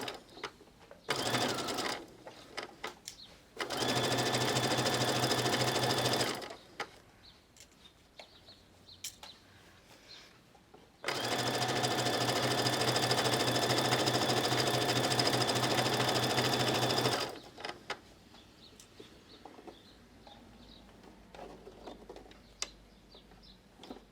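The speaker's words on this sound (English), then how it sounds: "now I'm going to sew this 1/4 of an inch from the edge" A sewing machine stitches linen a quarter inch from the edge, two long loud whirring runs of several seconds each, separated by quieter pauses with small handling clicks.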